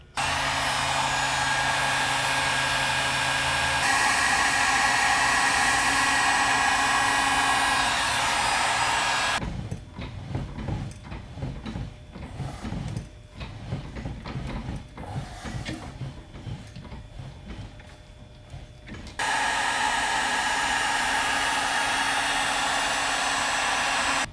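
Heat gun running loud and steady while a fender roller works the quarter panel of a JDM BMW E36; the blower drops out midway, leaving irregular rolling and creaking strokes, then the hiss returns.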